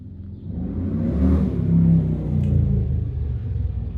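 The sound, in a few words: loud motorcycle passing by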